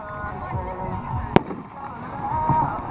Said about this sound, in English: Next 9 on the board by Winda, Ghost Shells